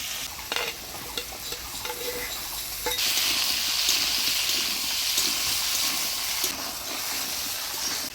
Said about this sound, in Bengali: বেগুন, আলু, মিষ্টি কুমড়া ভালো করে ভাজিয়ে নিলাম